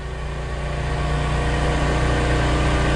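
An ST-280 spin rinse dryer motor spinning up to 1800 RPM, a steady loud motor hum with a faint rise, constant and alone for a few seconds.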